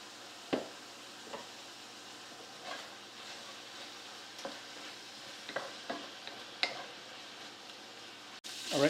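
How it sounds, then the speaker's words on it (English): Ground beef and onions browning in a pan for cheeseburger macaroni, giving a steady low sizzle with several faint scraping stirs spaced through it. "my meat is browned and my onions are starting to caramelize a little bit"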